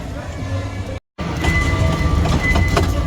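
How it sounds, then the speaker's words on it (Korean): A small indoor ride-on amusement train at an outlet mall in Paju rattles steadily along its tracks, a rhythmic clatter of wheels with a brief dropout, while voices talk over the noise. "기차가 덜컹덜컹. 덜컹덜컹하네."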